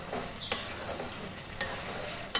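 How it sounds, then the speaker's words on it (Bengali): Chicken pieces for chicken rezala being stirred and slowly fried in a pan, a steady soft sizzle broken by three sharp scraping clacks of the spatula against the pan, close and fairly quiet with no talking. "আমি ভালো করে আরও কিছু সময় নিয়ে কষিয়ে নিচ্ছি।"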